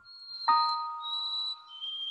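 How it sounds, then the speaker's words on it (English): A white-throated sparrow sings its clear, thin whistled song, a long steady high note followed by shifting pitched notes, heard alone and fairly close in a quiet setting. "That's the white-throated sparrow call right there."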